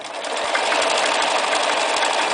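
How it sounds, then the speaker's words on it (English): A Bernina 1230 sewing machine running a decorative stitch, a steady fast mechanical whir with rapid needle clatter, close and continuous with no talking. "I'm just going to go through some of these stitches quickly"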